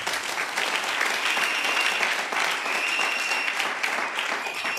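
Congregation applauding at a baptism ceremony in a church, steady dense clapping sustained throughout at full strength with no gaps.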